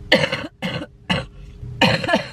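Four bursts of harsh coughing from a person with a sore throat, close and fairly loud, with short pauses between the first three and a longer gap before the last.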